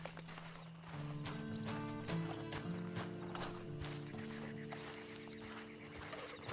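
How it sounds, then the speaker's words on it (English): Horse hooves clip-clop at a walking pace in Red Dead Redemption 2, soft and fairly quiet beneath a sustained low musical drone and game ambience. "Then you better get on this horse."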